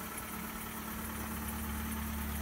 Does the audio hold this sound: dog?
no